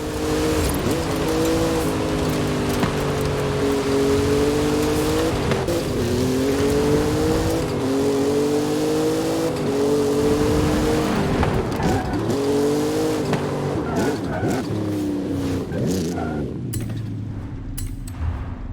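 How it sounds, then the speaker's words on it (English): A Formula Drift Ford Mustang muscle car drifts in Forza Horizon 5, its loud, sustained engine roar climbing and dipping in pitch through repeated revs, mixed with tire squeal, then easing off near the end. "That's the Formula Drift Mustang."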